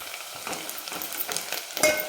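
Onion frying in a pan while being cooked to a light brown, a steady soft sizzle with faint scraping stirs, close and quiet with no talking.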